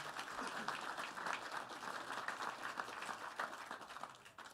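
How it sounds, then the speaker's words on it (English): A crowd at a YMCA charity gala applauds sponsors with steady, continuous clapping throughout, heard from a distance at low volume. "So big round of applause for those guys."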